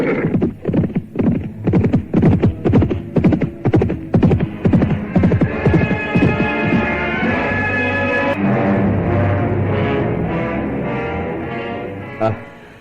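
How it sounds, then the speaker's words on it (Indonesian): Two riders set off on horseback in a radio drama, hooves beating in a fast, loud galloping rhythm up close, then giving way to a sustained musical drone that swells and slowly fades. "Sebentar kemudian nampak mereka berdua sudah berkuda menuju ke puncak naga."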